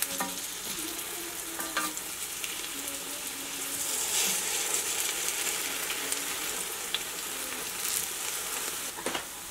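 Steamed bun slices, dipped in water, fry over high heat in a pan, giving a steady, soft sizzle with occasional light clicks and scrapes; no voices.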